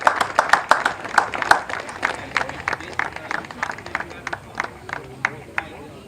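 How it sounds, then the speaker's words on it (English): Scattered hand claps from a small crowd at a high school baseball game, irregular and moderately close, tapering off gradually. "one more applause for our 2025 Campbell County Baseball seniors, Dylan Ford and Keegan Nelson."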